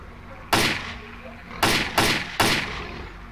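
Gunfire in the video game S.T.A.L.K.E.R. Clear Sky: four sharp, loud shots, one alone and then three in quick succession, each with a short echoing tail.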